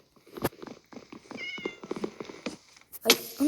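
Cat meowing in the Minecraft video game, a series of short mews and a purr-like rumble repeating over a few seconds, with a louder meow near the end.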